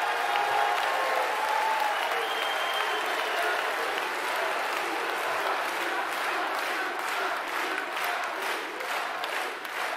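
Steady, sustained applause from a large audience at a French political speech, dense clapping filling the full ten seconds at an even level with no talk over it.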